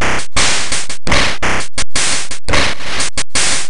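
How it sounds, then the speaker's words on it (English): Game Boy noise-channel drum hits sequenced in LSDJ, a fast chiptune pattern of bright, hissy white-noise bursts separated by short gaps, with hit loudness and envelope varying from one strike to the next, loud and alone. "it's all about creating a drum sound that's very human"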